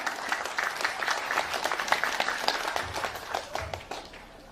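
An audience at a religious talk applauds, giving a few seconds of dense, crackling handclaps that swell and then gradually fade.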